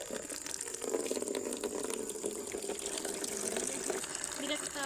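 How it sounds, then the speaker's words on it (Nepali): Water gushes steadily from a tap or hose into a flower pot, a continuous bright splashing and filling sound, close and fairly loud, with faint voices in the background. "अब चाहिँ म पानी भर्छु यो गमलामा"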